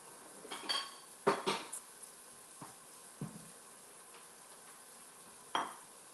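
A ceramic bowl handled on a kitchen counter, several sharp clinks and knocks scattered across a quiet background, close and distinct, with no speech.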